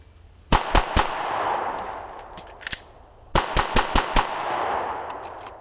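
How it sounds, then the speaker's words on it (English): A handgun fires a fast burst of four sharp shots, goes quiet through a combat reload with faint metallic handling, then fires another quick string of four, loud and close on an outdoor range. "On the buzzer, draw and fire 4 rounds into the chest box. Perform a combat reload and fire another 4 rounds"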